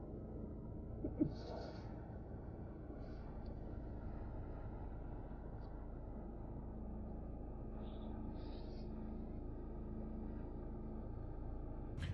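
2024 Vauxhall Combo L2 van on the move, a faint steady low engine and road rumble heard from inside the cab, with a few brief soft chirps.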